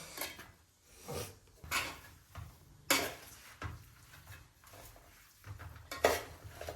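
Mango pickle is stirred in a pan, with a series of uneven scraping and clinking strokes of a utensil against the pan, close and fairly quiet, with no talking.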